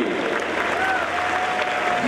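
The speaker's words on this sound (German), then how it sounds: "Nochmal einen großen Applaus für Chrissy." A crowd at a gaming convention costume contest claps steadily for a contestant in a dense, continuous burst, with faint voices and tones over it.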